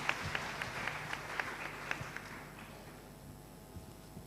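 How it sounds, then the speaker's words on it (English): An audience at an International Women's Day 2022 event applauds with steady, fairly quick clapping that fades out after about two and a half seconds. "A round of applause for Nana Hima, please."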